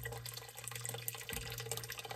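Water runs steadily from a tap into a large canning pot holding jam jars, a continuous close splashing rush with no speech over it.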